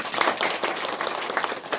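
Scattered hand clapping from a political gathering of Nasdem party members in Buleleng, dense and steady for a couple of seconds with a few sharper claps standing out.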